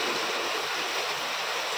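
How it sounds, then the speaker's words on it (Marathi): Steady rain falls outside, heard from indoors during a gas stove coil repair as a dense, even hiss that continues without pause. "आता बाहेर पाऊस चालू आहे"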